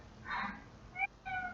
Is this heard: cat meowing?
yes